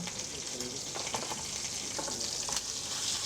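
Lamb pieces and bones sear on a hot plate in a restaurant kitchen, a continuous close sizzle with faint crackles and light stirring sounds throughout.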